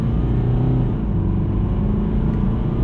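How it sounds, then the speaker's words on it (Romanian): A BMW 320 GT xDrive diesel engine pulls steadily under acceleration with a continuous, close, low rumbling drone that holds level throughout, with no talk. "A dieselul de la BMW se prezintă foarte bine. Urcă undeva până în 4000 de ture, trage foarte bine, are un cuplu excelent."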